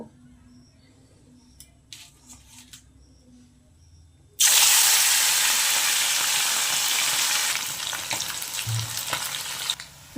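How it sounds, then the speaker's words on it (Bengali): Amudi fish dropped into hot oil after a quiet start, bursting into a loud, steady sizzle and crackle that fills the rest of the clip, close by with no talking. "মাছগুলো আমি ভেজে নেব দেখো বন্ধুরা এখানে আমি তেল গরম করে নিয়েছি মাছগুলো আমি দিয়ে দেব"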